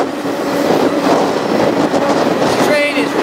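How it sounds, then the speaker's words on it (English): Freight train roaring fast through a small Indiana town, a steady loud rumble of wheels and cars with a brief high squeal near the end, close and continuous. "This train is roaring through another"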